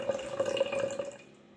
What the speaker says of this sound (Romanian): Și acum punem apă. Uitați, apă curată.